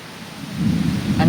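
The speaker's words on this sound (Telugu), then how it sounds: "వెనకాల ఉరుములు కూడా చూడండి" Thunder rolls in a low rumble that grows louder during a village rainstorm, with rain falling steadily underneath.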